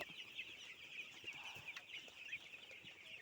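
A flock of chickens and chicks on a backyard farm clucking and peeping steadily, a busy high-pitched chatter at low volume with no voices over it.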